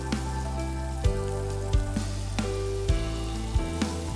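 Onions fry in hot butter with a steady sizzle broken by sharp crackles and pops, over a faint tonal hum.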